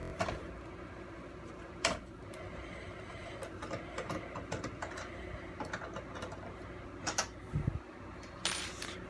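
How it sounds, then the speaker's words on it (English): Small screws being worked out of a PS2 Phat console's casing, giving scattered close clicks and light metallic taps in an uneven rhythm over a steady low background hum, with no talking. "you want to go ahead and remove all these screws"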